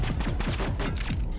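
Rapid gunfire in Mass Effect, a quick string of about eight punchy, close shots in a steady rhythm, loud and booming with a low thump on each.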